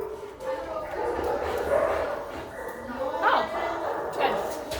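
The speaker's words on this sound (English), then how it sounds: "Here we have another dog." A dog yips and whimpers with short barks outdoors. The sounds come close and repeat now and then over a steady background.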